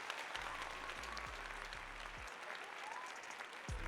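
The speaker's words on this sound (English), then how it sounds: "let's give Sabrina a round of applause" A round of applause rises briefly and evenly, with many hands clapping together at moderate volume and a few low swooping tones underneath.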